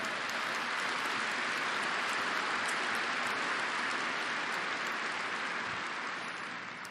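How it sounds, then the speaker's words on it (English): A large audience at a shareholder meeting applauding the company's managers, a dense, sustained roar of clapping that holds steady and begins to fade near the end, with no voices on top. "we want to give you a chance to applaud them"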